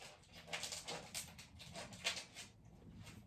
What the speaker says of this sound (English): My dog's trying to squeeze under the bed, but he's getting too fat.